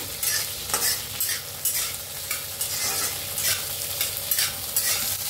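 Green chillies stirred and fried in hot oil until blistered, a loud, constant crackling sizzle with repeated stirring scrapes in a steady rhythm, close up, no talking.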